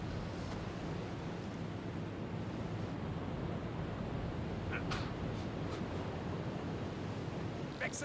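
Ocean waves in the submarine video game UBOAT, a steady broad surf wash that rolls on throughout at moderate loudness, with a few faint clicks near the end.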